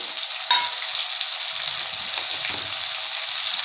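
A paste of ginger, cumin and garam masala hits hot oil in a pan with a loud, steady hiss and crackle after a sharp splash as it goes in.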